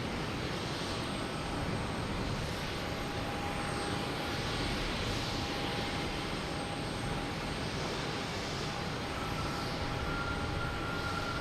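A Boeing 767 on flight 631 arriving from Keflavik at Boston Logan Airport after dark, heard as a steady, fairly distant jet rush with a thin high whine running constantly underneath.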